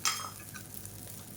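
Garlic podi idli being stirred and tossed with ghee in a pan, giving a soft, close scraping and faint sizzle with light utensil clinks over about a second and a half.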